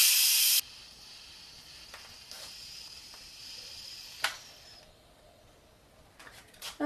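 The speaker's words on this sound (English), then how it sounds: "hot steam will shoot out of this" An Instant Pot pressure valve blasts hot steam in a loud sharp burst, then settles into a faint, steady hiss with a few small pops and bumps.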